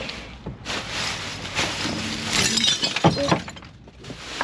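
Glass breaks among trash in a dumpster in the rain, a bright shattering crash followed by scattered tinkling shards under steady wind and rain noise, close to the microphone.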